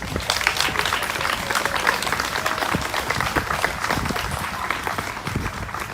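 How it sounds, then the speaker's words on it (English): Outdoor crowd at a charity walk event claps continuously, a dense, even rattle of many hands at close to moderate distance, with scattered cheers and no clear speech. "Can you please give that team a round of applause?"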